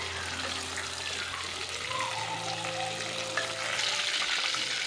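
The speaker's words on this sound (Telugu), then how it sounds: "వంకాయలు బాగా ఫ్రై అయ్యాయి" Stuffed brinjals (eggplant) frying in oil for a Rayalaseema gutti vankaya curry, a steady close sizzle with a faint running-water hiss and low hum in the background, no talk.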